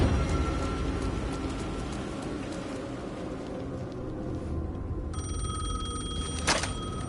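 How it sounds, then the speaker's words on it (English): A telephone rings in the video game Alan Wake 2 over a dense low rumbling backdrop, its bell tone rising clearly near the end with a short sharp burst. "The phone was ringing again."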